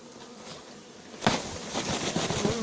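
Bees swarm around a hive box during a hiving at a farm, a steady close buzzing that swells louder after a sharp knock partway through.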